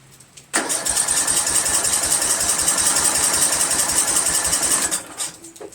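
A primed, choked Briggs & Stratton 17.5HP engine on a Craftsman lawn tractor cranks hard with the starter, a loud, rapid, even chugging that runs for about four and a half seconds before cutting off.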